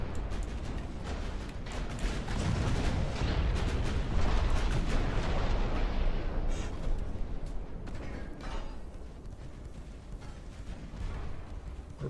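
Repeated heavy battleship gunfire in the naval game Ultimate Admiral Dreadnoughts, booming salvos layered into a continuous rumbling barrage that swells in the middle and slowly eases.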